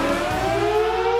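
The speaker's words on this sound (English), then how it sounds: "you can hear the test sirens are being done here in Firozpur" A civil defense air raid siren sounds during a test drill in the border town of Firozpur, Punjab, a sustained steady wailing tone heard briefly and at moderate distance.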